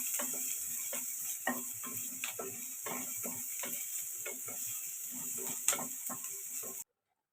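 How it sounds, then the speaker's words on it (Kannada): Onions fry in a pan for egg sambar, with a steady close sizzle and repeated scraping stirs and ticks, and no voices. Everything cuts off abruptly near the end. "ಈರುಳ್ಳಿನ ಚೆನ್ನಾಗಿ ಗೋಲ್ಡನ್ ಬ್ರೌನ್ ಆಗೋವರೆಗೂ ಚೆನ್ನಾಗಿ ಹುರ್ಕೋಬೇಕು."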